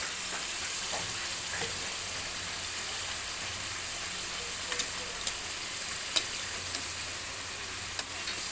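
Chicken korma sizzles and fries steadily in a pan as ground spices go in, a constant crackling hiss with a few sharp ticks and pops scattered throughout.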